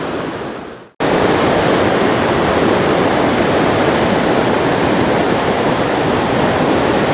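Turquoise river water in the Swat valley, on the road to Kalam, rushes loudly beneath a bridge, a dense and steady roar that cuts in abruptly after a quieter second and then holds without any voices.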